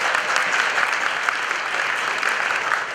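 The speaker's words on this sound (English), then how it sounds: "Can we give ourselves a round of applause, please?" Dense, steady applause from a large audience at a school graduation ceremony, many hands clapping together at an even level for the full three seconds with no voices on top.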